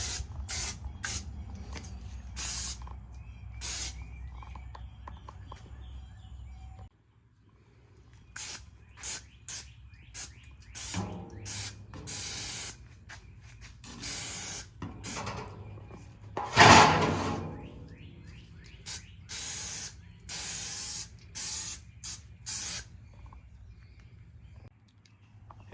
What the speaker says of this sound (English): just spray a little oil on them